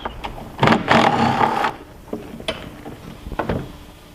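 Retaining screws come out of a glove box on a Can-Am two-seat side-by-side, heard as close mechanical clicks, a short ratcheting whir from a driver and a few light plastic knocks.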